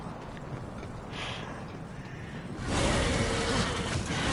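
Horse hooves clip-clopping in the Darksiders video game, a steady run of close hoofbeats that grows louder and brighter partway through, with no talking.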